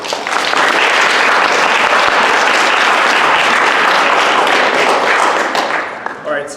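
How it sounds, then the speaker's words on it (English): Sustained loud applause fills a debate championship hall, dense steady clapping from a large audience that holds for about five seconds before tapering off at the end. "A round of applause."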